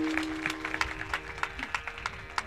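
Audience clapping in a devotional kirtan gathering to welcome the women cooks who made mande, a steady patter of many hands with sharp claps punctuating a busy, reverberant room.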